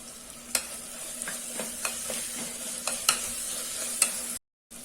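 Tomato, ginger-garlic paste, coriander and mint sauté in a pan for coconut milk rice, a steady close sizzle broken by several sharp stirring scrapes and taps.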